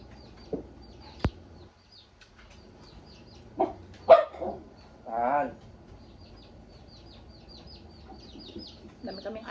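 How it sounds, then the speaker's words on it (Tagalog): Dogs at a rural home give a few short, scattered barks, with chickens clucking faintly in the background and long quiet stretches between the sounds. "Dami kaming aso."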